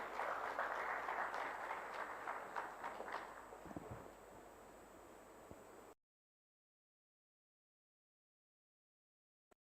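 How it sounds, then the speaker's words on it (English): An audience at an official MoU signing event in Odisha applauds the Chief Minister, a faint, steady crowd clapping that thins out over several seconds before the sound cuts to silence. "Let's welcome him with a huge round of applause,"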